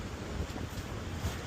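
Ocean waves and wind on a black sand beach in Iceland: a dense, continuous rush of surf and gusting wind buffeting the microphone, loud and steady throughout with no voices.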